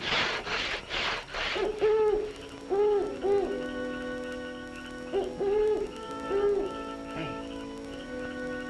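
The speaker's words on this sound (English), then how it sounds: "It's a mockingbird." Clear, whistled bird song with repeated looping phrases and varied notes, loud and close, with a burst of noisy chatter at the start.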